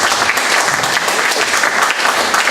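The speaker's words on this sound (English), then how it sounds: "can we have a round of applause for our speakers?" Steady, dense applause from an audience thanking the speakers at a community program, loud and continuous throughout with no voices over it.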